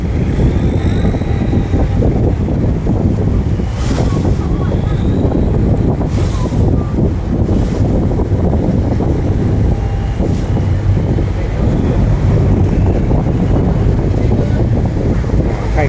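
Strong wind buffets the microphone during a boat crossing of the Chao Phraya river to Wat Rakhang in Thailand, a steady loud roar with water and engine rumble underneath and brief gusty bursts.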